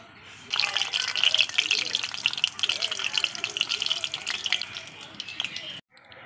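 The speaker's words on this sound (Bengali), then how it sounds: "আমি এখানে তেলটা কিন্তু খুব ভালো মতো গরম করে নিয়েছি। এই যে আমি এবার ছেড়ে দিচ্ছি মিষ্টি।" Sweet potato pantua dropped into well-heated oil set off a loud, steady sizzle with fine crackling bubbles that runs for several seconds, then cuts off abruptly near the end.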